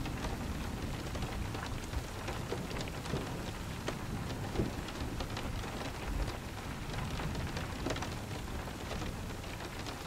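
Thunderstorm with steady heavy rain pattering on surfaces and low rumbles of thunder rolling underneath, a dense continuous wash with no voices.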